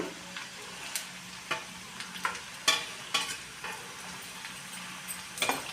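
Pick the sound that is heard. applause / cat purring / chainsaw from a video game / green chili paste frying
green chili paste frying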